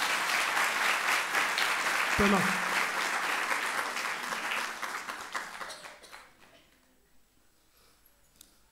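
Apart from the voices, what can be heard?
audience clapping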